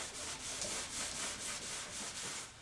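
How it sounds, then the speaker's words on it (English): A damp cloth wipes over a dusty workshop item in soft, rhythmic back-and-forth rubbing strokes, quiet and close, about five passes in under three seconds. "I'm just going to take a damp cloth and give it a good old wiping over"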